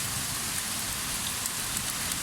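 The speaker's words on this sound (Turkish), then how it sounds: "Yağmurun sesini dinleyin dostum." Steady summer rainstorm on a warm day, a continuous close wash of rain falling on surfaces at even loudness, with no talking.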